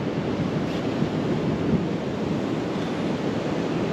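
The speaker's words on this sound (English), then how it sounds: "Just got to be extra careful as well, some big swells coming in." Ocean surf with big swells rolling in and breaking on a shore on an overcast morning, a steady broadband wash with gusty wind noise, loud and continuous with no talk.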